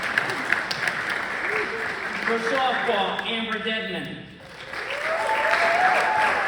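Clapping fills the room at a Canton South high school spring sports awards ceremony, steady and loud throughout while a presenter announces a softball honoree over the applause.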